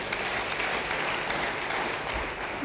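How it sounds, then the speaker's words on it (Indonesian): Congregation applause at a church service, a steady wash of many hands clapping together throughout, moderately loud with no talking over it. "Yang mau beri tepuk tangan bagi dia."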